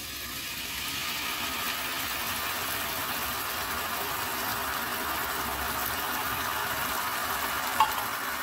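Canned sardines sizzle steadily in a hot pan, a constant bright frying hiss with occasional faint stirring and a single small clink near the end.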